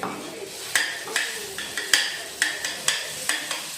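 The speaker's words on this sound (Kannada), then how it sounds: "ಇನ್ನು ತುಪ್ಪದೊಳಗೆ ನಾನು ಈ ಗೆಣಸು ಹಾಕೋತೀನಿ ನೋಡ್ರಿ" Boiled sweet potato frying in ghee in a pan, with repeated sharp clinks of a spoon stirring against the metal over a soft, steady sizzle, close up.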